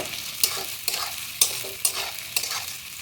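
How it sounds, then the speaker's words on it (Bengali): Onions stirred in a hot frying pan while cooking vegetable chow mein, giving a steady sizzle broken by five sharp scraping strokes of the spatula at roughly half-second intervals, close and clear with no talking. "এবার একটুখানি আবারও নাড়াচাড়া করে নিচ্ছি। পেঁয়াজটা সামান্য একটু ভাজা ভাজা হলে"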